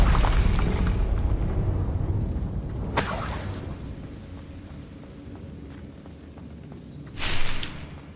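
Confringo spell blast in Hogwarts Legacy, a loud low-heavy burst fading into a long rumbling decay, with two sharp bright crackling flashes around three and seven seconds and a swelling roar near the end.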